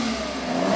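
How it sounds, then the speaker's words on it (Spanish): A Ferrari engine revs in a brief, steady mechanical roar with a rising tonal whine, close and fairly loud, no voices. "destacaba por girar libremente hasta 7500 revoluciones por minuto, produciendo un sonido inconfundible"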